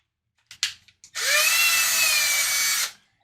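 A power drill bores holes into a guitar neck for Fender locking tuners, a few light taps first, then a steady high whining spin for nearly two seconds that stops abruptly.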